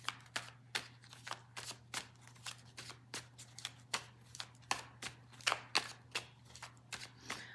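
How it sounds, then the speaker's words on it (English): Oracle cards being shuffled by hand, a rapid run of crisp riffling bursts in a steady rhythm, close and clear, with a faint constant hum underneath and no talk. "we'll give this a good solid shuffle"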